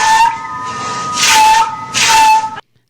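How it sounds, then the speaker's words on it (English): A whistle plays as a sound in an animal-call guessing game. A steady, fairly loud tone holds throughout with three breathy, rushing swells, then it stops abruptly with no talk over it. "It's a whistle."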